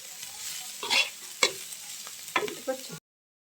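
Kalai greens fry in a pan, moved by several brisk scraping stirs over a steady sizzle, close and fairly loud, ending abruptly into silence.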